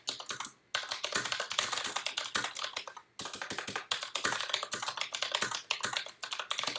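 Rapid, continuous tapping of keys on a computer keyboard, fairly quiet and close, with two brief pauses breaking the steady flurry of keystrokes.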